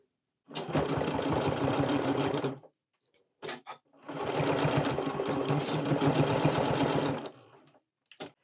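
A sewing machine stitching a tag closed on a Christmas stocking, two long runs of fast, steady mechanical whirring separated by short pauses and brief bursts, loud and close with no talk.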